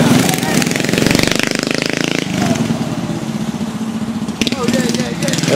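A small dirt bike engine buzzes loud and close at high revs during a three-lap mini bike race, its pitch dipping and climbing as it works through turns, with voices talking over it.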